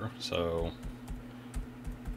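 Typing an IP address on a computer keyboard in a web browser's address bar; a few soft key taps follow a short spoken word, close and quiet under a steady low hum.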